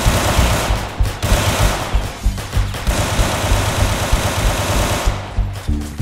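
Rapid automatic gunfire rattles loud and close in a Roblox hood game set in the Bronx, dense bursts with barely a pause, fading briefly near the end before another volley.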